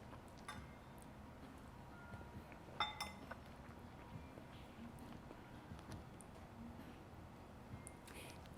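Glasses clink once in a toast over a homemade Loco Moco dinner, a brief bright chime near the middle set against low room noise and faint table clatter.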